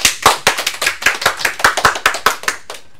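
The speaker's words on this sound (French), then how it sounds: "On peut l'applaudir très fort." A small audience, largely children, applauds after a pupil's talk about guitar lessons, with sparse, distinct claps in an irregular rhythm, close and fairly loud, thinning toward the end.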